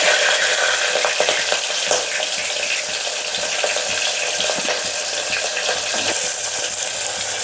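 Curry leaves, chili and onion frying in a pan for a yellow cucumber moong dal, a steady loud sizzle with crackling bursts running without pause.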